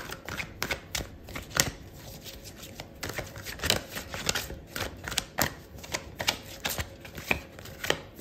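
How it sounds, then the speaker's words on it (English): Tarot cards shuffled by hand close up, a steady run of crisp riffling flutters and soft slaps repeating in quick bursts, alone with no voices. "I'm going to pull out another card for you"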